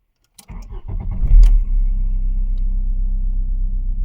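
A 1994 Volkswagen Golf 3 Variant 1.8 mono-injection engine cranks briefly with a few clicks and whirs, then catches and settles into a steady, loud low rumble.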